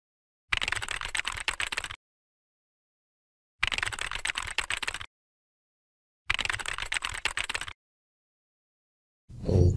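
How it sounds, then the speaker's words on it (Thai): A computer keyboard typing sound effect: three bursts of rapid, crisp key clicks, each lasting about a second and a half and separated by silence, then a fourth burst starting at the end. "คล้ายๆกับว่าเรากำลังพิมพ์สดๆจากแป้นพิมพ์ในวิดีโ"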